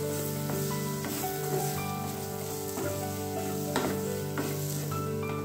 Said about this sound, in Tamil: ஸ்டவ்வை வந்து சிம்ல வச்சுட்டு இந்த மாதிரி கொஞ்ச நேரம் நல்லா ஃப்ரை ஆகிடுங்க